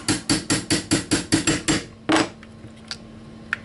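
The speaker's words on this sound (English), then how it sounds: "Take your 1/16 inch punch and go ahead and line it up there on that pin. Give it a few good taps." A hammer taps a 1/16 inch punch to drive out the trigger pin of a KEL-TEC RDB rifle. About ten sharp, evenly spaced metallic strikes are followed by a pause, one more tap and a faint click, all close up.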